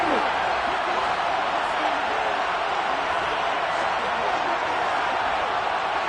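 A large crowd roars steadily at a football stadium ahead of a big third down in the Super Bowl, a dense, continuous cheer heard from a distance without letup.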